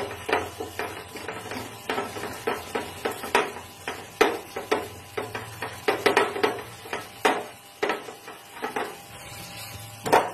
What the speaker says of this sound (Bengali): এর মধ্যে অল্প অল্প জল ঢেলে নেবো, দিয়ে এটাকে মিক্স করে নেবো ভালো মতো করে